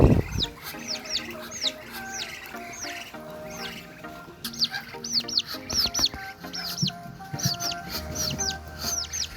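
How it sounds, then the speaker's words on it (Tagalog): Chickens in a backyard cluck and chirp repeatedly, with several birds calling in quick overlapping bursts at moderate distance, plus occasional louder clucks and background clatter. "So mayroon tayong manok,"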